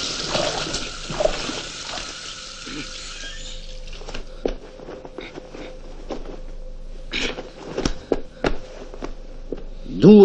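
Water runs from a tap in a steady splashing stream that fades out, followed by scattered clinks and knocks and brief bits of sound from people nearby.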